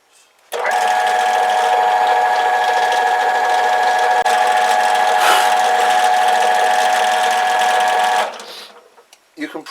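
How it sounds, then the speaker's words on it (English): Drill press boring a hole in a motorcycle rack bracket for a Kawasaki BN125 Eliminator, a steady whining motor tone for about eight seconds that starts and stops abruptly, close and alone. "I'm sure you've seen someone drill a hole before, but either way, I'm doing it."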